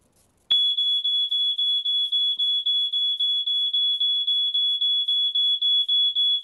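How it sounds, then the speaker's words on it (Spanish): Homemade aquarium water alarm set off when its two wires touch water in a sump, a loud piercing electronic beep starting abruptly and pulsing rapidly and evenly, close and alone without any talk. "al sumergir los dos cables, el agua hace conducción en la electricidad y activa la alarma"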